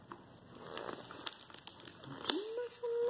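Packing tape being ripped open on a package: close crinkling and crackling tears, with people talking over the rustling.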